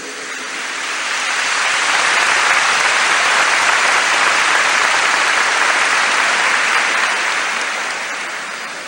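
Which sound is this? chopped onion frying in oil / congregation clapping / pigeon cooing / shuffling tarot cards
congregation clapping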